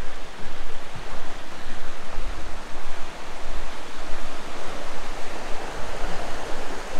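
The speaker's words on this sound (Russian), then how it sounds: "Очень шумит река." A steady, loud roar of a rushing mountain river near waterfalls in the Khamar-Daban range fills the whole stretch, broadband and unbroken, close by.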